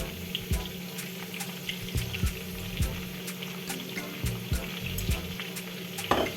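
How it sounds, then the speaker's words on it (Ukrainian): Julienned carrots frying for plov in a pan over onions, a steady close sizzle broken by repeated soft scraping knocks of stirring, no voices. "Потім я відразу додаю сюди нарізану соломкою моркву."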